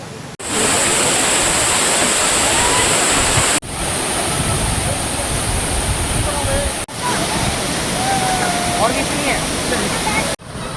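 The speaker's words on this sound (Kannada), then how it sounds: "ಇಲ್ಲಿ ಬೀಳ್ತಾ ಇದೆ ಫಾಲ್ಸ್ ನೀರು ವಾಟರ್ ಫಾಲ್ ಬೀಳ್ತಾ ಇದೆಯಲ್ಲ" Water pouring down Amboli waterfall makes a steady, loud, close roaring rush that fills the scene, broken by a few brief cuts.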